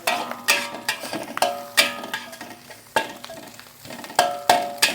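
Rice is stir-fried in a pan until dry, following a mother's home recipe, with a spatula clanking and scraping against the metal in a quick, uneven rhythm over a soft background sizzle.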